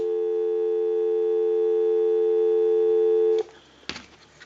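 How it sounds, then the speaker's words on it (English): A steady telephone dial tone hums loud and unbroken on a phone line for over three seconds, then cuts off, followed by a couple of faint clicks. "give you some dial tone."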